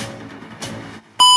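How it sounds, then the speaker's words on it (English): A phone ringtone bursts in loud and sudden after quieter sound, a bright sustained electronic tone ringing on its own with no talk over it. "Sorry, that's my ringtone."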